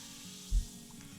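A soft hiss with a brief low thump as chlorine bleach hits water, then a faint steady sizzling fizz over background hum.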